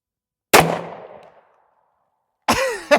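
A .45 ACP 1911 pistol is fired at a small can outdoors, with one sharp shot followed by a fading echo and then a second report about two seconds later, loud and close.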